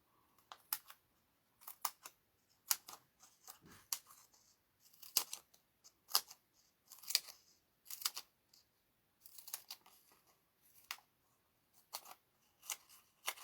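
Small paper pieces for a greeting card kit are snipped with scissors in quick, crisp cuts, about a dozen clusters spaced irregularly, close by and quiet in an otherwise still room.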